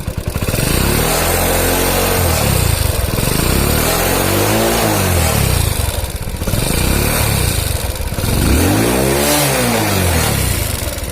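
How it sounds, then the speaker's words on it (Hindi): A running Hero Honda Passion Plus motorcycle engine, one with an oil-consumption fault and smoke from the silencer, heard up close and loud, idling and rising in about three long, steady revs before falling back. "चलो इस गाड़ी को स्टार्ट करते हैं। दोस्तों गाड़ी स्टार्ट हो गई है।"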